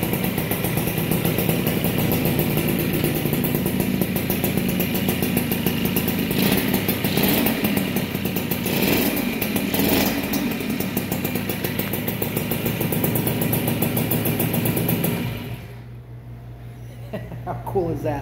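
A 1982 Honda MB5 two-stroke motorcycle, freshly restored and running on a little choke, idles loud and close with a rattly buzzing note that swells slightly in places, then drops to a quieter, lower idle near the end.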